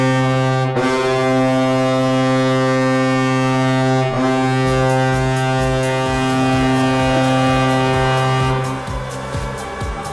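An ice hockey goal horn blares as a long, loud, deep sustained tone rich in harmonics, briefly interrupted twice, with rhythmic musical pulses joining toward the end; no talking.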